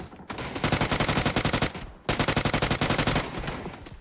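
Two long bursts of rapid automatic fire from a UMP submachine gun in PUBG, each lasting over a second, loud and close, separated by a short pause with no talk over it.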